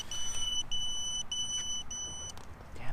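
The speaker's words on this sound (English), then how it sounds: "those buzzers are annoying, aren't they?" Repeated high-pitched beeps from an Emax Baby Hawk R drone's lost-model buzzer after its battery died, in a steady pulsing rhythm, heard over outdoor background noise.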